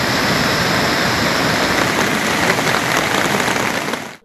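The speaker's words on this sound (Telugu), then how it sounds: "కొన్ని రోజులుగా జమ్మూ కాశ్మీర్లో కుండపోత వర్షాలు కురుస్తుండటంతో అక్కడి పరిస్థితి రోజు రోజుకు దిగజారుతోంది" Heavy monsoon rain pouring in Jammu and Kashmir, a loud dense continuous roar of water hitting surfaces, steady throughout and cutting off abruptly at the end, with no voices.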